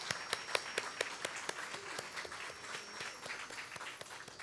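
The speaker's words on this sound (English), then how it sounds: "please give the DeKalb Employee Choir another round of applause" An audience applauds a DeKalb employee choir at an annual MLK celebration, a dense roomful of clapping with sharp individual claps that swells briefly and then holds steady.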